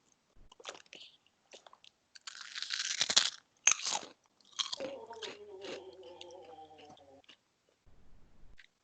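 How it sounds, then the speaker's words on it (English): Crisp pineapple ancho chili pork rinds crunched close to the microphone, a run of sharp bites and chewing crackles in irregular bursts, with a short tonal sound in the middle and quiet pauses between. "These are pineapple, ancho chili, pork rinds."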